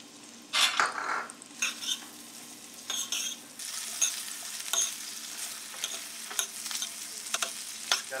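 Onions frying in a pan for turkey fricassee, a steady crackling sizzle broken by scraping stirs and occasional clinks of a utensil against the pan, close and fairly quiet with no talking.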